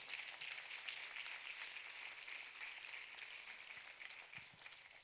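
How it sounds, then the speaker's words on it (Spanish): A church congregation applauds, a steady wash of many hands clapping together, continuous and fairly even throughout with no one speaking over it. "Bríndele fuerte el aplauso al Señor."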